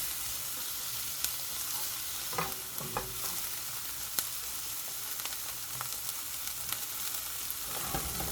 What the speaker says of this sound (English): Let that fry.